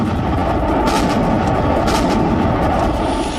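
Artillery fire near the Russia–Ukraine border: a dense, continuous, loud rumble with heavier bursts swelling about a second in and again near the two-second mark, with no voices.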